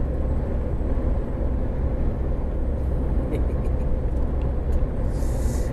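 A lorry on a drive from Yate to Bridgend gives a steady, loud, low engine and road rumble from inside the cab, with faint voices underneath.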